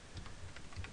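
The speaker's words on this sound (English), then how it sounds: "type it in" Typing on a computer keyboard at a PC, a quick run of light, close key clicks in an irregular rhythm over a steady background.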